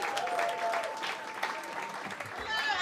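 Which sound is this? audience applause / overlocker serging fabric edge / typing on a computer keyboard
audience applause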